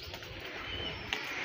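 A pigeon coos softly somewhere near, a low murmuring call under steady outdoor hiss on a hot day, with a brief sharp chirp from another bird standing out.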